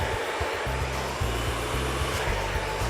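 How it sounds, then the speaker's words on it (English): A salon hair dryer blows hard and steady during a smooth, straight blow-out with a ceramic round brush, a close, loud whoosh with a low pulsing hum underneath. "You don't want to burn the client by getting the dryer too hot and too close to her scalp."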